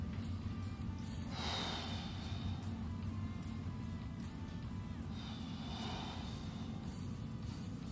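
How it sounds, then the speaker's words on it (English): Slow breathing during a side-sleeper stretch routine: two long, soft breaths roughly four seconds apart, close and faint over a steady low background hum. "Breathing through."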